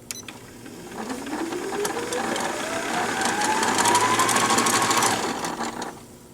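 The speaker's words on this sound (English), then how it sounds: "Push your bobbin winder shaft to the right. And then you're going to press the start button." Embroidery machine bobbin winder spinning up and running steadily for several seconds, a close, even mechanical whir with a rising pitch, no talking over it.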